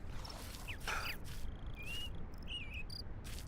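Bird song in the video game Baby Steps: scattered chirps and whistled phrases rise over a steady low ambient bed of outdoor noise, fairly faint and intermittent, with no talking.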